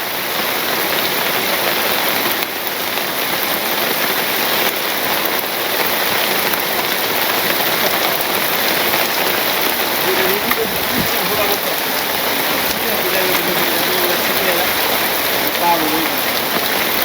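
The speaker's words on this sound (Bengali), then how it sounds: "চারিদিকে আমার চারিদিকে খালি বৃষ্টি আর বৃষ্টি" Steady heavy rain falling in a Bangladeshi village, a dense continuous hiss and patter filling the whole stretch evenly, loud and close throughout.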